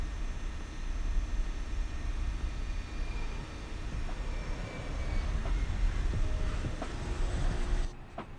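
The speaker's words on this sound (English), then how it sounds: "It's that yellow electric pump there," A steady electric hydraulic pump whirs on an Airbus A320 in a flight simulator, a constant droning hum with broadband noise and a few faint clicks, holding until a brief drop near the end; nobody talks.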